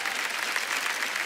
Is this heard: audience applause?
yes